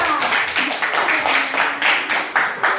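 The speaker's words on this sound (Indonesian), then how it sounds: "coba tepuk tangan untuk kawan yang bisa." Students in a classroom clapping for a classmate, a short run of brisk, somewhat uneven hand claps from a small group, close and moderately loud, with a faint voice underneath at times.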